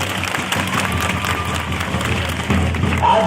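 Applause from a crowd of students at a school Republic Day celebration in Kotagarh, Kandhamal: dense, continuous clapping that swells louder near the end, with some voices mixed in.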